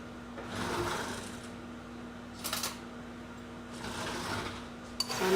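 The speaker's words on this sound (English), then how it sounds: "you can give it another shake or two to mix up your mix a little bit more if you want" A glass jar of dry Italian herb mix is shaken in several short rattling bursts, separated by quiet pauses, faint and nearby.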